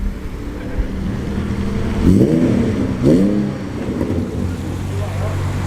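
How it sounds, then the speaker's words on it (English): A BMW E46 with a six-cylinder engine revs hard twice in quick succession, rising and falling at a wet Oulton Park trackday, with a steady engine drone and track noise underneath. "BMW E46 with a very cool sounding 6-cylinder"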